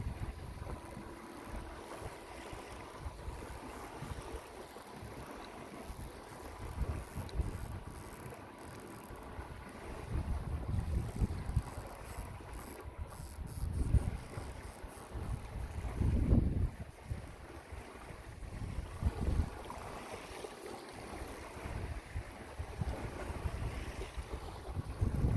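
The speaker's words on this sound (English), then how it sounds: "It's a little windy, so just bear with it." Wind buffeting a microphone outdoors on a sidewalk, steady low rumbling gusts that swell and fade across the whole stretch with no talking, near and fairly faint overall.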